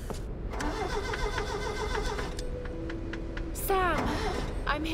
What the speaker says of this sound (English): sounds like someone's trying to get an engine started